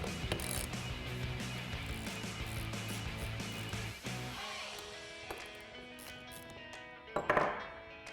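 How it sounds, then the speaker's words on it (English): Ratchet wrench with a 13mm socket backing out brake caliper bolts on a 2009-2018 RAM 1500, steady clicking for several seconds, then a pause and a brief louder clatter near the end. "to do that we're going to be using our 13mm socket. So let's go ahead and get that off"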